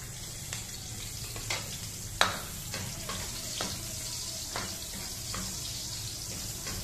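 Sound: garlic frying in a pan

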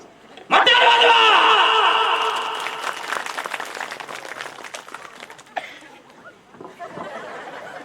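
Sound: audience applauding

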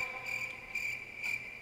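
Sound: bee buzzing in the video game Minecraft

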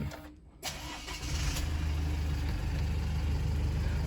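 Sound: pickup truck engine starting with push button

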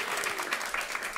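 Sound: audience applause

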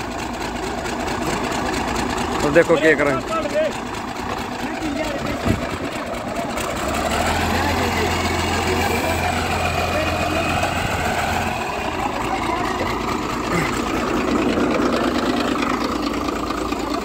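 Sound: six-cylinder truck engine running on an HMT tractor

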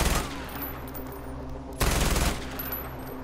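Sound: gunfire in Far Cry 4 video game

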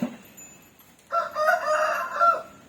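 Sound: rooster crowing, chickens around the house

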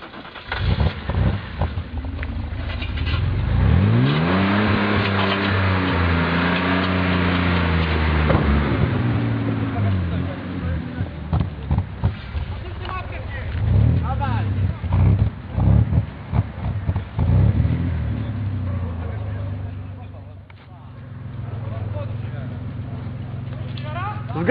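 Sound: BMW 535i engine revving during burnout

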